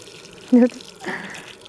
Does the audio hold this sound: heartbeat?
no